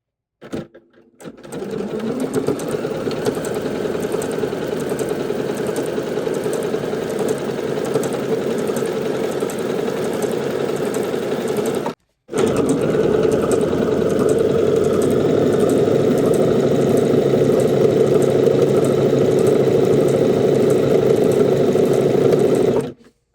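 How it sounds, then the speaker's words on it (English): A sewing machine stitches through gathered fabric in a fast, steady mechanical whir that runs loud and close, cuts out briefly near the middle, then resumes at the same even pace. "now I'm going to stitch right through that line"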